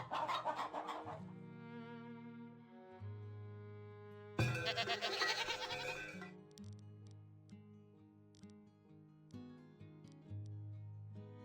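Goats bleat over a layered game soundtrack in a Farthest Frontier farming settlement, with short animal calls popping up now and then through steady melodic music, mostly in the background and moderately loud.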